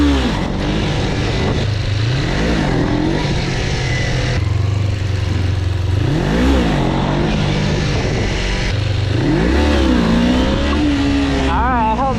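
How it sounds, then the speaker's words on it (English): Motorcycle engine revving up and down in repeated surges while the rider holds a slow wheelie, loud and close throughout with brief dips between pulls. "I want to maintain a slow wheelie."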